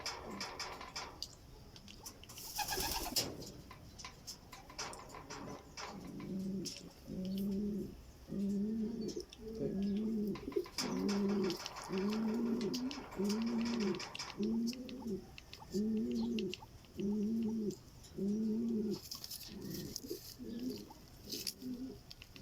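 Pigeons coo in a steady series of repeated, rounded calls near the microphone, preceded by a sharp brief noise and set against faint background sounds at a racing loft.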